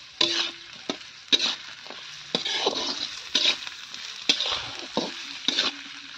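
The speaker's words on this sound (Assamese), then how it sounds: "এতিয়া মই ইয়াতে নহৰুখিনি দি দিম" Chopped onion and garlic frying in hot oil in a pan while siddol is cooked, bursts of sizzling every second or so as the pieces are stirred and added, close and moderately loud, with no talk.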